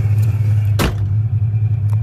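Car driving on a morning coffee run, a steady low engine rumble from the cabin broken by one short loud whooshing burst as something passes close by.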